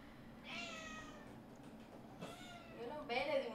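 A cat meows several times in the middle of a Smite match played as Awilix, short harmonic cries recurring under ongoing game sounds and a player's voice.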